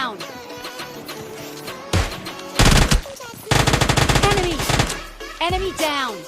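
Automatic gunfire in the PUBG Mobile Lite game during a duo-versus-squad match, loud bursts of rapid shots in several strings with short gaps, close up and dominating, with faint game effects between them.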